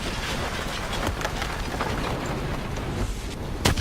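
Heavy superstorm rain pours steadily in a Call of Duty Black Ops 3 level, a dense continuous roar with low rumbling thunder underneath and a sharper crack near the end, loud and unbroken throughout.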